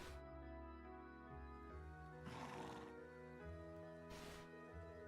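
A horse named Arthur neighs and whinnies on a mountain path in Trails of Cold Steel II, with hooves and game ambience steady underneath. There are two bright bursts of whinnying within a few seconds.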